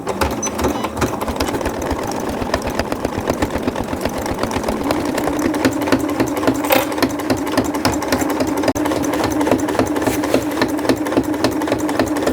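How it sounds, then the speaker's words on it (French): A sewing machine stitches the hood of a children's rain cape, a fast steady mechanical whirr with rapid needle ticks running continuously and close by. "Nous n'avons plus qu'à piquer notre capuche à 1 cm du bord."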